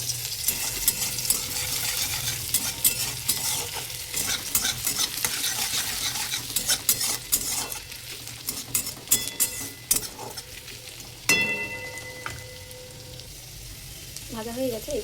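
Chopped garlic, ginger and green chilli sizzle loudly in hot oil in a wok, stirred with rapid scraping strokes and occasional metal clinks near the end, close up with no voices.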